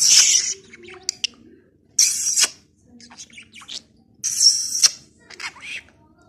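A budgerigar chirping loudly in bursts, with a few short squawks and mimicked speech-like warbles between them, close to the microphone.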